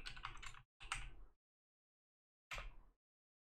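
Three short bursts of rapid keystrokes on a computer keyboard, each lasting about half a second and separated by silence, close and fairly clear.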